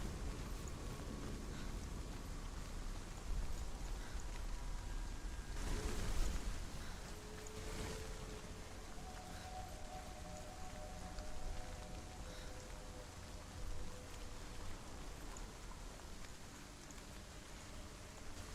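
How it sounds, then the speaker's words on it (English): Steady rainfall in the video game Hellblade: Senua's Sacrifice hisses softly throughout, a quiet continuous patter with a few brief swells and faint tonal background sounds. "Love that rain, look at that."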